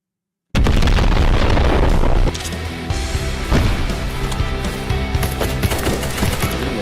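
Video game gunfire rattles in loud, dense bursts that begin abruptly and keep going with booming impacts and echoing shots.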